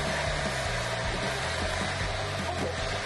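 A hair dryer blows steadily and loudly on freshly dyed hair, a constant broadband whoosh with a low motor hum underneath and no voices.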